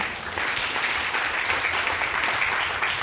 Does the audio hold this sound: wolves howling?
no